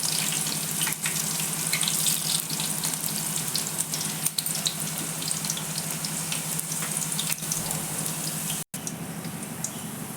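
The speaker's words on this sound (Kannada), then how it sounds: "ಈ ಥರ ಎಣ್ಣೆಲಿ ತಗೊಳ್ಳಿ ಬೆಳ್ಳುಳ್ಳಿ ಚೆನ್ನಾಗಿ ಪರ ಫ್ರೈ ಮಾಡ್ಕೊಳ್ಳಿ" Garlic frying in oil, a steady dense sizzle with a crackling hiss that runs continuously at close range, broken by one brief dropout near the end; nobody talks.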